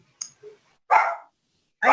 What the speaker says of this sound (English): Pardon me for my little puppy that's barking in the background